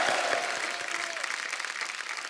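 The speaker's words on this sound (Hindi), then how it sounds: "जोरदार तालियां हो जाएं" Studio audience on a Hindi comedy show applauds a folk singer with loud, dense, steady clapping that fills the whole stretch, with a faint voice briefly audible near the start.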